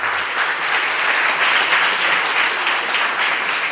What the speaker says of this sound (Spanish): Pido por favor un fortísimo aplauso para él